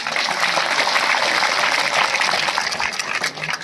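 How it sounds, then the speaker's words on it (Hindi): An audience at a village gathering gives loud, continuous applause for the village head, a thick wash of clapping hands that holds steady for a few seconds. "मैं चाहूंगी एक बार जोरदार तालियां।"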